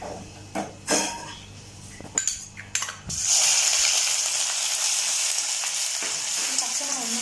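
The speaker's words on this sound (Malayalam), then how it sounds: "നമ്മൾ ഇഞ്ചിയും നമ്മൾ നേരത്തെ അരച്ച് വെച്ച ഇഞ്ചി, വെളുത്തുള്ളി, പച്ചമുളകിൻ്റെ പേസ്റ്റ് നമ്മൾ ഇട്ട് കൊടുക്കുക" Ginger, garlic and green chilli paste dropped into hot coconut oil: a few clinks and knocks, then a sudden loud, sustained sizzle that hisses steadily to the end.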